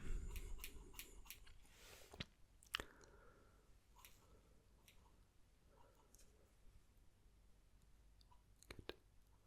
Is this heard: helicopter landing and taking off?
no